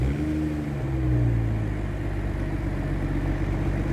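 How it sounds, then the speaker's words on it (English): A 2022 BMW X3 M40i's exhaust idles at a low, steady rumble with a deep harmonic drone that holds evenly throughout, with no voices. "why don't we get a quick exhaust clip, because I'm sure you guys are curious about how it sounds"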